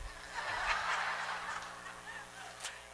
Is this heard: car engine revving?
no